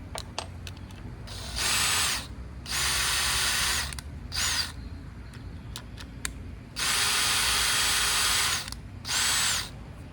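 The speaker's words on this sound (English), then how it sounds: "I always go all the way out and then screw it in just a little bit." A power drill drives a screw with a Phillips or flathead bit while a multi-stage pump is assembled. Four loud whirring bursts of one to two seconds each are separated by short pauses and scattered clicks, all close up.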